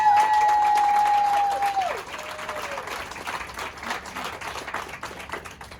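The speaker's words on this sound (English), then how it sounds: "Give them a round of applause." A crowd bursts into sustained applause, dense clapping that gradually thins, with a high tone fading out at the start.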